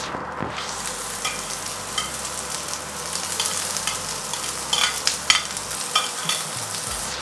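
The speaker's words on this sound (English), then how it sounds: "So we just want to mix it so it's all based in the oil" Vegetables and peppers stir-fry in hot oil, a loud, continuous sizzle with irregular scraping and clattering as the mixture is tossed and stirred, close by and without talking.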